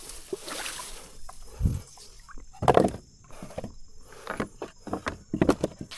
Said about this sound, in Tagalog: Ito yung bangka.